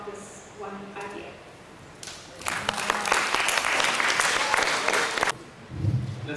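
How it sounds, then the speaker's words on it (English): An audience at a student program breaks into sustained clapping lasting a few seconds, dense and fairly loud, before it stops and a voice resumes. "Let's give him a round of applause."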